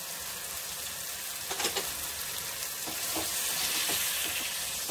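Chana frying in a pan with salt, soy sauce, sugar and white vinegar makes a constant sizzle, broken by scraping stirs and spatula knocks at irregular intervals.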